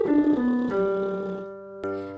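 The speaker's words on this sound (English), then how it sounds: "So let's do this on a lip buzz" A lip buzz vocal warm-up exercise: a sustained, pitched lip trill with a strong harmonic series, sliding slightly and then holding steady before a brief re-onset near the end, sung alone and close.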